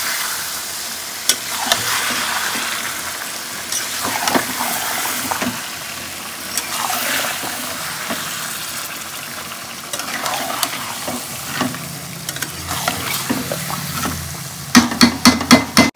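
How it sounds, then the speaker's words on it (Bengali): Raw mango pieces with turmeric frying in a pan, a constant sizzle broken by repeated scraping stirs, with a burst of quick clatters near the end. "আবারও কিন্তু আমটাকে একটু নাড়াচাড়া করে দেবো, আমটা যাতে ভাজা ভাজা হয়ে যায়"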